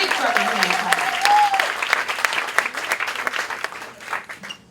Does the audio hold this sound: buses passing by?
no